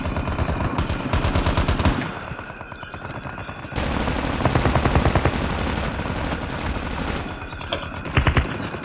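Rapid automatic gunfire in the video game Call of Duty, loud dense bursts of shots with brief pauses, a heavier burst near the end, no talk over it.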